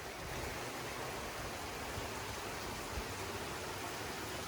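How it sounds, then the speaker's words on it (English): Heavy rain pouring outdoors onto already saturated ground, a dense, even wash of broadband noise held steady throughout with no voices. "Buddy, it is really raining now."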